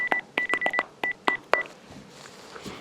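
A telephone number is dialed by keypad, a quick run of clear, evenly sounding touch-tone beeps, most in close succession with short gaps, followed by quiet room noise.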